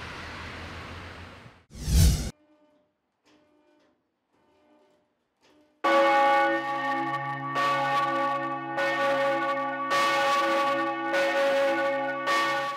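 The bell of Saint-Hérard church in Nidau rings out: after a brief thud and a quiet gap, loud, ringing strokes repeat in a slow, even rhythm with long humming tones between them.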